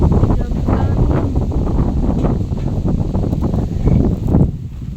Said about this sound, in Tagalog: Grabe ka hangin